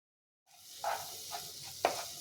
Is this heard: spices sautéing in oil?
yes